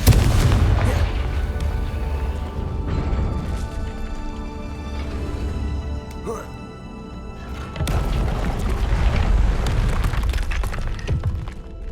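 Repeated booming spell blasts from Confringo in the Hogwarts Legacy video game, loud and continuous with bursts near the start and again toward the end over a rumbling game soundscape.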